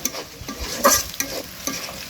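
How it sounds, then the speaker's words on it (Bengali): Pieces of fresh katla fish fry in hot oil until light brown, a close, crackling sizzle with little pops and spatters breaking through the steady hiss. "আমার ভাজাটা প্রায় হয়ে গেছে দেখেন হালকা বাদামি বাদামি কালার"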